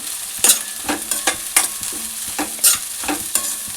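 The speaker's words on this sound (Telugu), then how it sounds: "బీన్స్ వేసేస్తున్నాను. ఒకసారి కలిపేసుకుంటున్నాను మొత్తం." Beans stirred into vegetable fried rice with cabbage in a pan over a high flame: a rhythmic run of sharp spatula scrapes and clanks over a steady sizzle, close and loud, with no talking.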